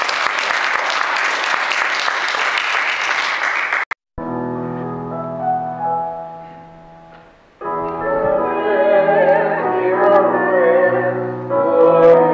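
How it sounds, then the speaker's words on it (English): Congregation applauding at a church service, about four seconds of dense, steady clapping that cuts off abruptly and gives way to organ music. "I need to clap."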